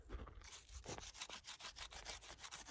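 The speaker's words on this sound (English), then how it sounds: "you run the piece of wood through here, stripping off" Rhythmic scraping strokes, about a dozen in steady succession, close and harsh, as wood is run through a stone bark stripper, stripping off bark.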